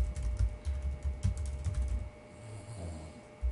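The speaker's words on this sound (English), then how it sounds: "you type in the blog address." Keystrokes typing a blog web address on a computer keyboard, a quick run of close, quiet clicks that trail off partway through, with low room hum underneath.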